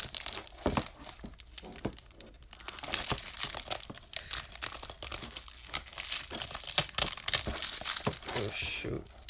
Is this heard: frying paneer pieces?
no